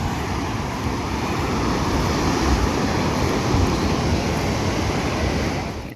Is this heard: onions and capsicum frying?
no